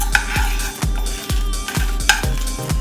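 Spatula scraping and stirring jeera, fenugreek seeds and dal dry roasting in a pan, with rhythmic scrapes repeating about every half second, close and fairly loud, and no voices.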